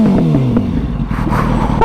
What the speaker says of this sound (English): I'll give it some little revs.